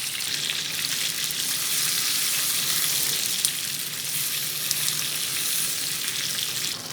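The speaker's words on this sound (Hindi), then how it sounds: "ऑयल गर्म करके इसके अंदर ये सारी वेजिटेबल्स डाल के इनको हल्का फुल्का फ्राई कर लेंगे, यानी कि स्टिर फ्राई" Mixed vegetables stir-fry in hot oil in a pan, a loud, steady sizzle that holds evenly throughout with a couple of faint clicks.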